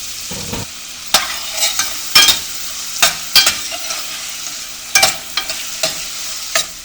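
Onions stirred and frying in a pan over low heat, a soft constant sizzle broken by repeated sharp scraping strokes of the utensil, close and fairly loud with no talking.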